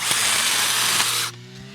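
A power tool cuts steadily and loudly with a harsh, whirring rasp for about a second and a quarter, then stops abruptly, leaving a lower mechanical hum winding down.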